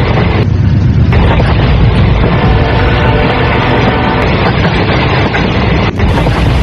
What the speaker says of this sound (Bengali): ট্রেন হুইসেল বাজিয়ে যথারীতি স্টেশনটাকে পিছনে ফেলে এগিয়ে যেতে লাগলো